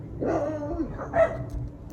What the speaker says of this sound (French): Les chiens de mes voisins, c'est un enfer.